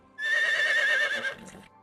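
A horse in the medieval life-sim game Medieval Dynasty lets out a single loud, close whinny about a second long that tapers into a soft snort.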